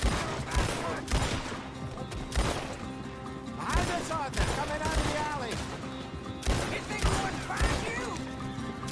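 Repeated gunshots crack in close, irregular bursts during a Red Dead Redemption 2 shootout, with game music and voices running underneath.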